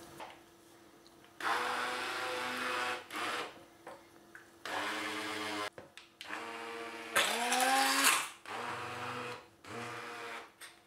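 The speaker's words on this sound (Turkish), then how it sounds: "İsterseniz mikserde, isterseniz de şöyle blenderdan geçirebilirsiniz." A kitchen blender grinds cooled chocolate cake for a chocolate tray cake, roaring loudly and close in several start-and-stop bursts of whirring motor noise with short pauses between them.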